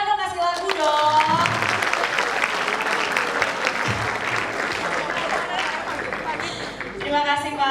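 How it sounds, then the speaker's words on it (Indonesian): Applause from an audience at a university energy talk, a steady wash of clapping filling the hall, with a speaking voice and some musical tones at the start and the end. "Tepuk tangan dong, kasih lagu dong."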